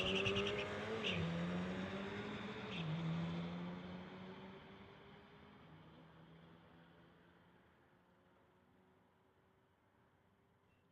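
Volkswagen and Tesla launching in a street-legal drag race, a loud roar of engine and tire noise that pulls away and fades steadily into the distance.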